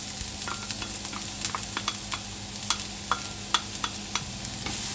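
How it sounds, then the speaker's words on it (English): Onions sizzling in a few tablespoons of hot oil in a wok give a steady close hiss, with regular clicks and scrapes of the utensil as they are stirred; nobody talks. "Get it nice and hot, and we're going to fry our onions."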